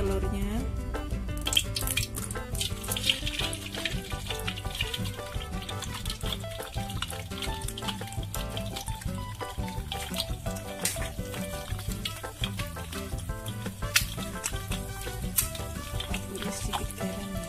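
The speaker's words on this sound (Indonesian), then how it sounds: "kita ceplok dulu telurnya." Eggs frying in a pan for Indonesian semur telur ceplok: a steady, dense crackle and spatter of hot oil continues throughout at moderate loudness, with no talking over it.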